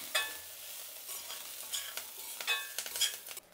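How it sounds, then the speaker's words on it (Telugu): Ginger, coriander, curry leaves and a little tamarind fry in a pan with a soft, steady sizzle, punctuated by several quick scraping stirs of a spoon; fairly quiet and close, with no talk. "అల్లము, కొత్తిమీర, కరివేపాకు, కొద్దిగా చింతపండు, ఇవన్నీ వేసేద్దాం. బాగా వేయించుకునేయాలి."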